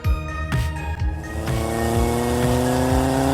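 A car engine accelerating hard, its pitch climbing steadily across a few seconds, with short rhythmic bumps early on that may be gear shifts or tire sounds. It plays as a loud, close sound effect with no talking over it.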